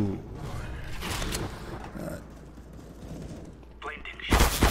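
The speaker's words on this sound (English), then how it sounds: "Don't shoot me in the back like that." Rapid bursts of gunfire in Counter-Strike: Global Offensive, loud and close, repeating across the clip with a sharp burst near the end, under someone talking.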